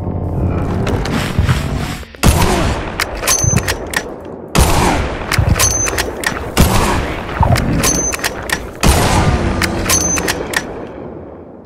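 Gunfire from a gun mod in the video game Minecraft comes in three loud bursts of rapid, echoing shots, each followed by a short lull with ringing metallic pings and booms.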